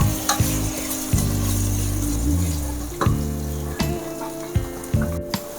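Spatula stirring and scraping through a sizzling pan of frying ingredients for gongura pulao, with steady frying hiss and repeated scrapes and knocks, close and loud.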